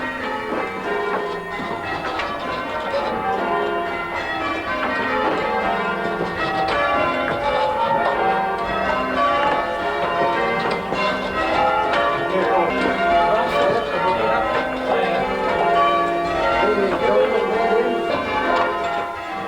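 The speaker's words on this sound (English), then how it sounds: "Each ringer concentrates intensely, looking and listening for the cue to ring their bell at the correct moment." Church bells ring in a continuous overlapping peal, many bells struck one after another in steady changes, loud and close throughout.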